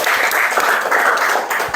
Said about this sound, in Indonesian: Tepuk tangan untuk kelompok 7.